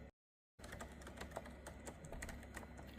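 Someone types on a Keychron B1 Pro keyboard in a quick run of soft, close key clicks after a brief silent gap.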